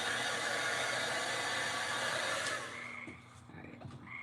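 A hair dryer blows steadily and loudly, close by, while drying a hula skirt craft, then drops away after a few seconds to a quieter background.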